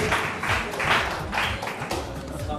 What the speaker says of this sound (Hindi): तालियों के साथ फिर से इनका एक बार वेलकम करें